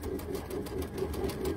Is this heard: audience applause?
no